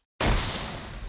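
A grenade goes off in a capture-the-flag video game match, one sudden loud broadband blast that bursts out of silence and rumbles on with a slowly fading tail.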